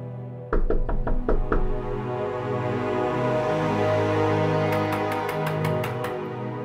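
Knuckles rap on a door in a rapid run of five or six sharp knocks, then a second quicker burst a few seconds later, close and loud over a sustained musical drone.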